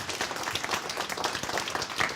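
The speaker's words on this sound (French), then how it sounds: "Vous pouvez l'applaudir?" An audience at a corporate talk applauds a presenter, dense and even clapping from many hands that holds steady at close range throughout.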